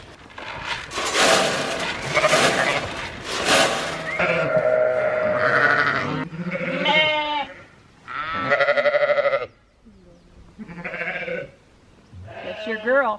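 Sheep bleat loudly and repeatedly at close range on a homestead pasture, a series of drawn-out wavering calls separated by short pauses.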